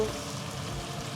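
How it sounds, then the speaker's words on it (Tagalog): Fish frying in a pan, a steady dense sizzle and crackle of hot oil, loud and close, continuous with no talk. "Hintayin lang natin ito maprito"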